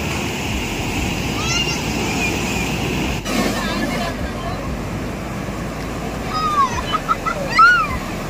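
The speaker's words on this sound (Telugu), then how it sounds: "అలలు అయితే ఎంత ఫోర్స్గా వస్తున్నాయో చెప్పలేము అన్నమాట, అంత ఫోర్స్గా వస్తున్నాయి." Strong ocean surf rolling onto a beach in Goa, a loud continuous broadband wash with gusts of wind noise and distant chatter and shouts layered over it.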